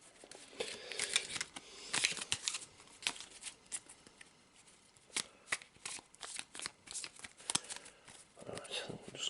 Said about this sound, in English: a real pain to shuffle.